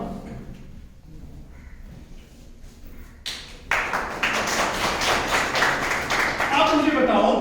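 Audience at a motivational skills seminar breaks into loud, dense clapping a few seconds in, after a quieter stretch with a voice, and the applause stays steady to the end.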